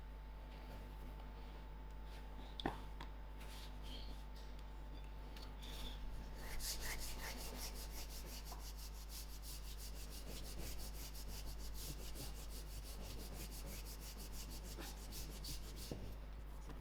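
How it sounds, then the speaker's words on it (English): Pastry being rolled out with a rolling pin for a butter chicken pie, giving a steady soft rubbing, rasping sound of close, moderate loudness with a few light knocks, with no talk. "I'm going to cut out a piece of my pastry that I'm going to roll out."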